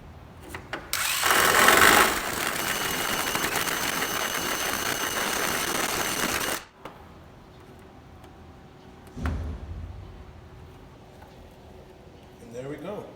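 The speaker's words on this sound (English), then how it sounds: "I'm taking my uni bit, it's a step drill bit, taking that in. I'm just pretty much gonna round out the hole" A step drill bit grinds through carbon fiber to enlarge a hole on a Honda EK four-door hatch with a J32 swap, a loud, steady power-tool whine lasting several seconds before cutting off, leaving quiet room noise and a brief later thump.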